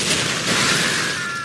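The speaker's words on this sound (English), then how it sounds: "His guns, Ebony and Ivory, specialize in long-range shots and rapid-fire barrages, respectively." Dense rapid gunfire from the demon hunter Dante's twin pistols Ebony and Ivory in a Devil May Cry fight, a loud continuous barrage of overlapping shots with a rising whine near the end.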